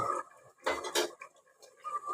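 A lid comes off a pot of chicken with a few short metallic clinks and clatters close by, separated by quiet gaps.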